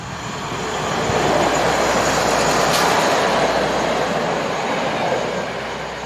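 A German-designed class 814 diesel multiple unit runs past on a Slovenian line between Maribor and Murska Sobota. The roar of engine and wheels swells in, stays steady and loud for several seconds, then begins to ease, with no voices.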